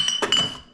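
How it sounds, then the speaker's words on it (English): A glass Topo Chico bottle gives a few quick bright clinks in a short, close burst that rings briefly and fades. "I have a bottle of Topo Chico. It's glass bottle."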